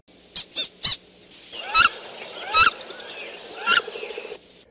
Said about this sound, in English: Click on the bird call to attract a bird.